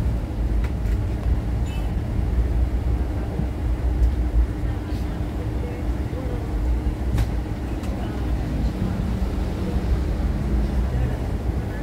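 A steady, loud rumble of a moving train carriage in the Konkan region, heading toward Sawantwadi, fills the space, with faint clicks and rattles but no clear talk.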